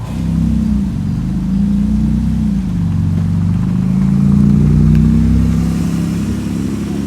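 A chrome blue Bugatti Chiron passes on a London street, its engine droning loud and near with rising and falling pitch as it revs and accelerates.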